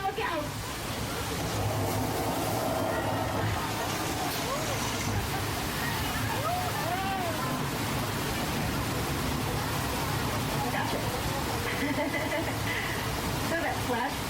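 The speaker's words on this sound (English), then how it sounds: "that flood effect is created by dumping thousands of gallons of recycled water from giant tanks up at the top of the hill" A staged flash flood on the Universal Studios tram tour in 2000 releases thousands of gallons of recycled water from giant hilltop tanks. It makes a steady, loud, broad rushing roar that lasts throughout, with voices faintly underneath.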